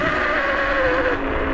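A Laotie TI30 electric scooter accelerates on a wet road, giving a steady motor whine that rises slightly over a continuous hiss of tyre spray, close and fairly loud with no talk.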